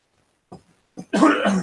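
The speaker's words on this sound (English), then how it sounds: "Let me clear my throat" A single person clears their throat: a couple of short rough bursts, then a longer, louder guttural rasp, close and alone.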